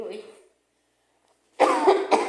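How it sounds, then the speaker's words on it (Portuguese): A brief voice fades out, then after a pause a dry, harsh cough sounds in quick bursts, close to the microphone. "Começa o frio, começa a tosse seca."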